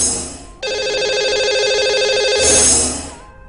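A telephone rings out on a radio call-in show as a lucky caller is dialed: a steady, loud electronic ring pattern with a brief pause before it, sounding alone without talk.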